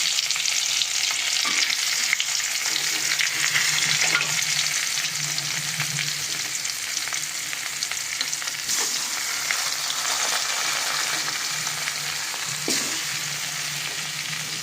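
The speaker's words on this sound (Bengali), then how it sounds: "এই যে নুন হলুদ মাখিয়ে মাছগুলোকে ভেজে নিচ্ছি" Kalbos and rui fish pieces rubbed with salt and turmeric fry in hot oil, giving a loud, dense, unbroken sizzle with occasional spatula scrapes and pops throughout.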